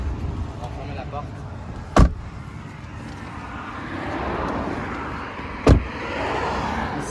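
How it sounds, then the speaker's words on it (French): Doors of a 2024 Tesla Model Y Long Range shutting, two sharp solid thuds a few seconds apart over a low cabin rumble, close by. "On va fermer la porte."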